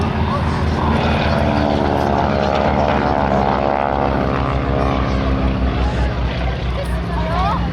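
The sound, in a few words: display team aircraft diving past at an air festival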